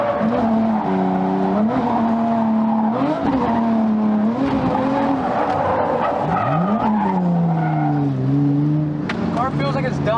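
A supercharged Mazda Miata drifts, its engine revving and its tires squealing in long rising and falling wails across the whole stretch, loud and close, with people talking over it.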